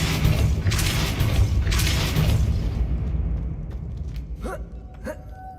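A Depulso spell cast in Hogwarts Legacy gives a heavy booming blast that rolls off and fades, with a few sharper swooshing effects following. No one speaks over it.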